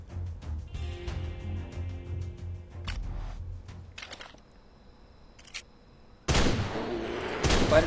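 Shotgun fire in the hunting video game Deer Hunter 2018: a single sudden, loud blast cuts through a quieter bed of low game ambience near the end.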